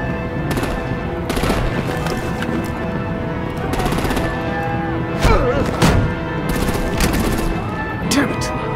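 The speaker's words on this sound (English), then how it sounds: "Break out the artillery and disable their vehicles!" Gunfire and artillery from the video game Batman: The Enemy Within: repeated sharp bursts of shots and heavy thuds crackle in clusters throughout, mixed with voices talking.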